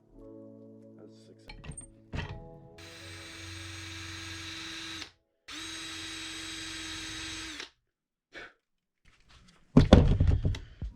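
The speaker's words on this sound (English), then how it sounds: "No problems, just smooth drilling." Power drill boring into a fishing lure for bluefin tuna, two sustained whining drill runs of a few seconds each, separated by a silent gap, with knocks before and a loud clatter at the end.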